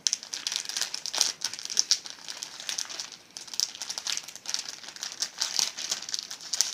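Plastic packaging of Lidl car seat covers being torn open one-handed, producing continuous close crinkling and crackling with irregular louder rustles.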